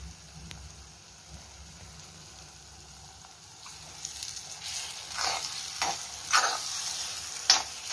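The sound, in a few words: stirring egg for kothu chapathi frying on high flame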